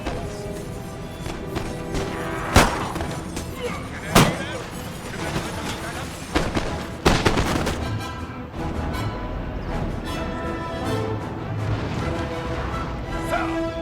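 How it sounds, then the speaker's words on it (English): Cannon artillery fire in the battle game Napoleon: Total War, several sharp booming blasts at irregular intervals over a dense battlefield din, with a person talking throughout. "Have cannons set up there, firing down on all their units here."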